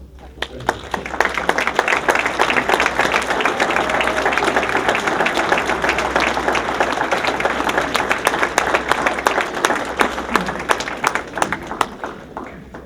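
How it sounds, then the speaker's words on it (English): Graduating students at a Coleman University ceremony stand and applaud their families, a long, dense round of clapping from a large room that builds quickly, stays loud and even, then thins slightly near the end. "So why don't you stand up and give them an applause, the students."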